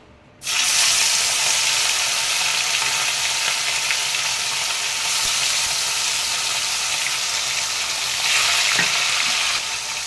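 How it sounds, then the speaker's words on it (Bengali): Loud, steady sizzling of mourala fish frying in hot oil begins abruptly and continues without pause, with a brief rise in crackle near the end. "তেল আমার ভালোভাবে গরম হয়ে গেছে এবার আমি মাছগুলো কড়াইতে দিয়ে দেব"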